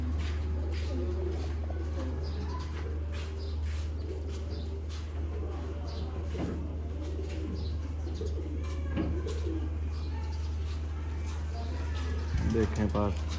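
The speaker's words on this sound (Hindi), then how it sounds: "देखें पार, बड़ा लाजवाब पाड़ा है कबूतर का।" Pigeons coo softly and intermittently in the background while someone talks over them, with a steady low hum throughout and a brief louder sound near the end.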